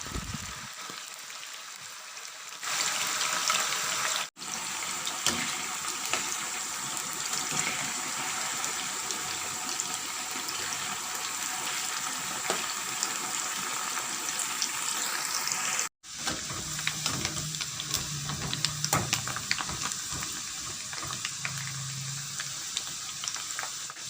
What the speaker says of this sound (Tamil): நான் இதை ஃப்ரை பண்ணி எடுக்க போகிறேன்.